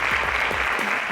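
Audience applause at a high school quiz show, a steady dense clapping from a crowd filling the room, loud and continuous with no pauses.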